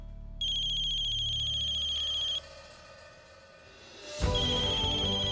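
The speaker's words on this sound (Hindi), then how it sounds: "शुक्र है कल्याणी का फोन तो आया।" An electronic phone ringtone with a repeating high tone plays steadily, stops briefly, then a fresh ring burst starts near the end.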